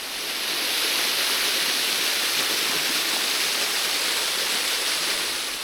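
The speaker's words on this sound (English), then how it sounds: "this stream is called Murderous Stream." A rushing mountain stream in the Czech mountains pours steadily, a loud, dense and unbroken wash of water close by with no voices.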